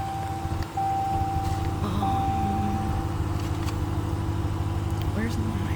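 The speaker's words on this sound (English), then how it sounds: "I'm gonna go ahead and actually start the vehicle so that it doesn't turn itself off." A 2022 Ram 1500 Classic Warlock 4WD with a 5.7L HEMI V8 is heard nearby. After a brief dip, the engine settles into a steady, even, low idle hum.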